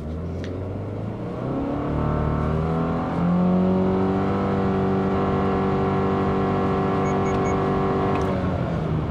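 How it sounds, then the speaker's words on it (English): A 2024 Subaru Impreza RS launches from a brake-torqued start in sport mode for a 0-60 run. The engine drones loudly and steadily, its pitch climbing and holding through the acceleration, close to the listener and without speech. "So with 30 extra horsepower versus the 2-liter, let's go ahead and see what we can get 0-60-wise."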